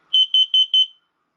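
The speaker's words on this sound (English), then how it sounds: "Testing the carbon monoxide sensor." An X-Sense combination smoke and carbon monoxide detector, during a carbon monoxide sensor test, emits four quick, piercing high-pitched beeps in rapid succession, close and loud, followed by silence.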